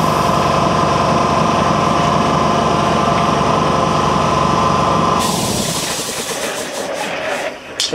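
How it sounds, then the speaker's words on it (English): An air compressor in a workshop with a plasma table runs loud and steady, a dense continuous mechanical drone that cuts off abruptly partway through, leaving quieter rattling and faint room noise. "Set that compressor off for a little bit."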